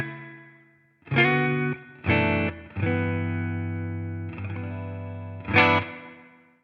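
Guitar chords through a Line 6 Catalyst amp with its spring reverb, several strummed chords ringing out with a smooth decaying tail, loud and close with no talking.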